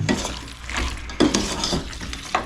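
Country chicken frying in a pan is stirred steadily, a spoon scraping and clinking against the metal while a continuous oily sizzle carries underneath, close and fairly loud.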